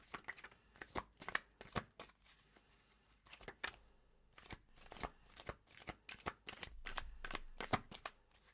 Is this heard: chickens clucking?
no